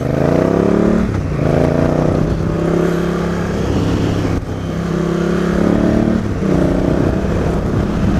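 Honda Africa Twin motorcycle riding on rural link roads, engine droning loud and steady with repeated rising revs through gear changes, wind rushing throughout.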